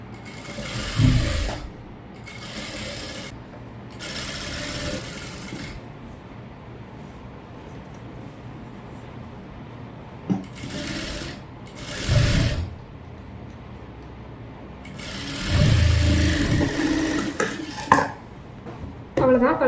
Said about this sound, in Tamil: நம்ம வந்து கழுத்தை சுற்றி தையல் போட்டுக்கலாம்